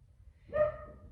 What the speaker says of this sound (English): that's Pippa outside barking